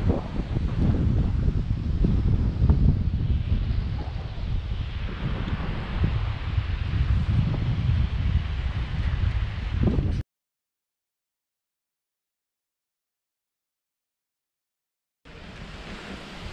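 Wind buffets the microphone on a beach in Lower Fairlight Glen, Hastings Country Park, in December, a loud, steady roar with gusting rumble for about ten seconds, then silence before the blowing resumes.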